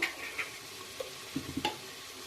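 Finely chopped capsicum hits a pan of fried onions, giving faint sizzling with a few soft stirring scrapes and clicks, quiet and close.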